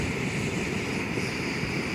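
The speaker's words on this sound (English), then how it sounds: "Got the stove going," A camping stove burning outdoors at a trail campsite, a loud, close, steady roaring hiss that holds unchanged throughout with no talking.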